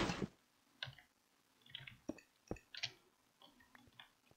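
Minecraft concrete powder dropping into water and hardening: a run of scattered soft clicks, ticks and small wet pops, close and moderately loud, irregularly spaced over several seconds with no talking.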